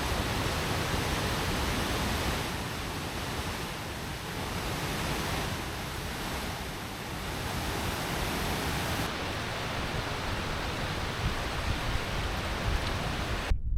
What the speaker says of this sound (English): Back to my waterfall on Blacktail Deer Creek.